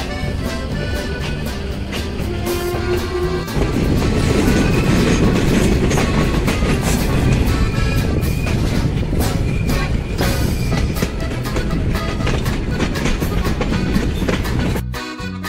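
The Chilahati Express in Bangladesh, near Dhaka Airport railway station, runs past on the rails with a loud, continuous rumble and rhythmic clatter of wheels over joints, close and unbroken for the whole stretch.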